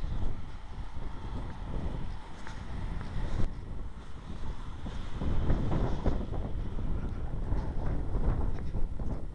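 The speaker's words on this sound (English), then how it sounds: "It is 32 degrees out and it's very windy." Strong cold wind blows outdoors on a 32-degree winter day, a continuous loud low buffeting roar across the microphone with gusts that swell and ease.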